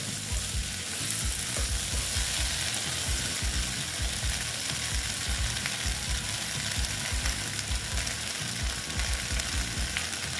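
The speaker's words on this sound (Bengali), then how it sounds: "ভেন্ডিগুলো ভেজে নেব আস্তে আস্তে" Okra (bhindi) fries slowly in a pan with a steady, close sizzle and a continuous crackle of oil that runs throughout without a break.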